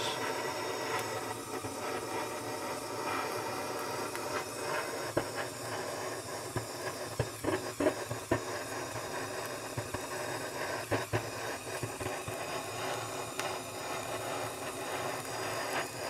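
A propane torch sears a sous-vide steak with a steady roaring hiss that holds at a constant level for the whole span, close and loud, with a few faint clicks and taps along the way and no talking.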